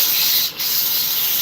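Wood being sanded by hand with coarse 80 grit sandpaper, a close, loud, continuous rasping hiss with one brief dip in the middle, no talking.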